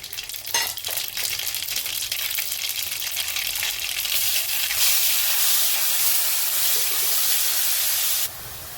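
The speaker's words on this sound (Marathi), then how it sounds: "मोहरी तडतडली की आपण बाटल्याला मसाला टाकणार आहे" Mustard seeds crackle and spit in hot oil in a pan, a dense, close sizzle with sharp popping that builds louder and hissier toward the end before dropping off.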